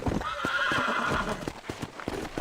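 A horse in the Western game Red Dead Redemption whinnies loudly up close, with sharp hoof clops rhythmically striking the ground beneath it, and no talking.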